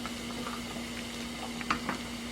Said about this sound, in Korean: 알밤도 맛있게 보글보글 끓고 있어요